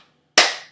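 A single sharp hand clap rings out, loud and close, with a brief bright decay after a moment of near silence.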